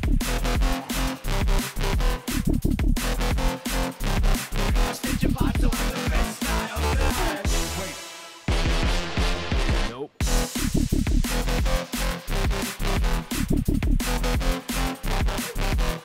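A finished remake of a track, built with the Serum synth: a loud, dense electronic track with punchy beats and thick bass, a brief breakdown near the middle, then the full mix returns.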